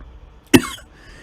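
A man gives a single sharp, close cough, a brief loud burst against a quiet background with no talking.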